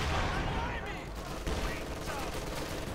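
Gunfire and artillery bombardment from the World War II strategy game Company of Heroes 2, dense overlapping bursts and booms rolling continuously, with a commentator's voice faint underneath.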